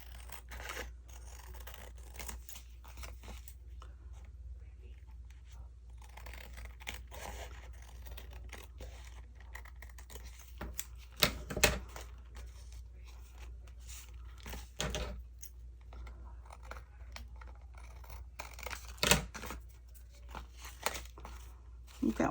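Scissors trimming and rounding the corners of paper journal cards, with repeated soft snips and crisp paper rustles scattered across a long stretch, close and quiet over a low hum.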